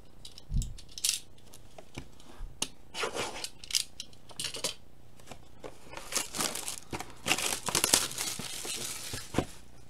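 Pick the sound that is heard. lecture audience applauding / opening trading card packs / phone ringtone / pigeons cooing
opening trading card packs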